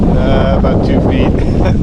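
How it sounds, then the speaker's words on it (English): Strong wind over the Gulf of Mexico, heard from a Yamaha WaveRunner out among two-foot rollers, buffets the microphone in a loud, steady roar that fills the whole moment. "The wind's picked up"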